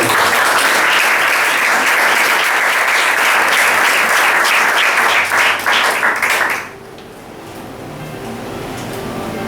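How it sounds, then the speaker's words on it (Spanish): A church congregation breaks into loud, sustained applause with dense clapping that fills the room, then stops abruptly, leaving a quieter hum. "Dale un aplauso a la palabra de Dios."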